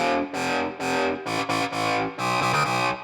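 A UK bass synth patch in Ableton pushed through hard-clip distortion with the drive maxed, playing a choppy sequence of buzzy, harmonically dense notes separated by short gaps.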